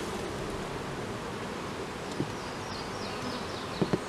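Honeybees circle a swarm trap outdoors, a soft, constant buzzing hum with a few louder passes of individual bees close by near the end.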